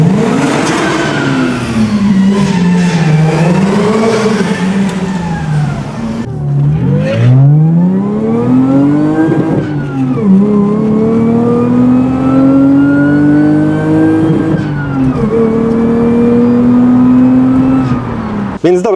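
A supercharged Lexus engine revs loudly and close, pitch climbing and falling through repeated sweeps with a whining overtone, dominating throughout.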